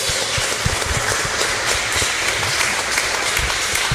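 A church congregation at a Catholic preaching event applauds loudly, a dense, continuous roar of clapping with heavy low rumble and no clear pauses.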